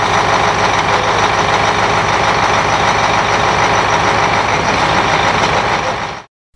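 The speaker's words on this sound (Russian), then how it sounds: "Недавно в Заречный прибыл универсальный мусоровоз, предназначенный для работы с контейнерами любого типа." The engine of a new KAMAZ universal garbage truck runs loud and close in a steady, dense diesel roar, then cuts off abruptly at the end.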